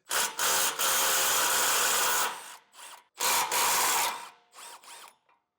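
Socket wrench turning a 17mm tow hook nut on a 2024 Chevrolet Colorado, heard as close, bursty mechanical ratcheting and rubbing in several runs with short pauses between them.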